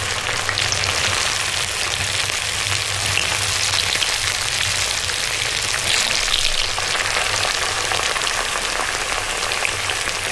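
Crispy rolls fry in hot oil with a loud, dense, even sizzle, like heavy rain, that goes on without a break and with no voices over it.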